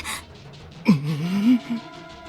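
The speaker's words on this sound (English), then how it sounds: "The heavy gasp old man Hatakeyama let out." A heavy, breathy gasp from old man Hatakeyama, a character in the Higurashi video game, rising sharply then trailing into a drawn-out vocal moan, close and alone.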